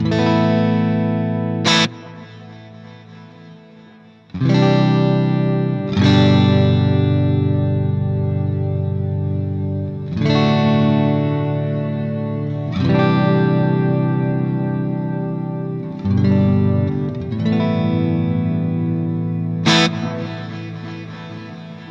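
Distorted guitar chords through a reverb pedal at full mix, drenched in heavy reverb, each strum washing into long, lingering tails, with occasional bright string attacks.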